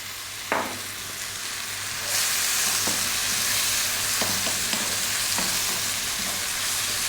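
Chili powder, coriander, turmeric and cumin frying with fresh tomato over lively heat, a steady loud sizzle broken by occasional spoon knocks and scrapes as the pan is stirred, close up.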